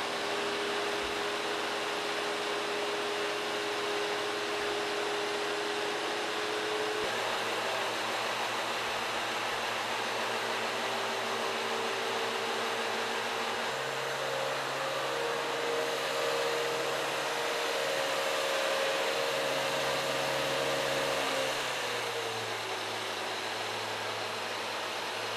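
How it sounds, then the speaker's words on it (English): A shot blaster fitted with a vacuum strips stain from a concrete floor, giving a loud, steady machine whine and hiss whose drone shifts pitch a few times as it works along, with no voices. "now I've completely stripped this floor with a shot blaster"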